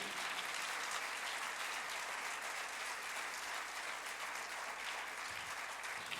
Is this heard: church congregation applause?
yes